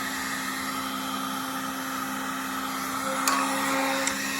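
A heat gun blows a steady, loud hiss of hot air across faded dirt bike plastic. The whoosh holds nearly unchanged throughout, with a couple of faint clicks near the end.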